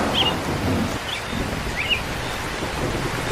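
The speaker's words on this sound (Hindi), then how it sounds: "ये लो, बारिश भी शुरू हो गई और हवाएं भी चलने लगी।" Rain sets in with gusting wind in a cartoon scene, a steady hiss of falling drops and blowing air filling the background at moderate loudness, with a few faint bird-like chirps on top and no speech.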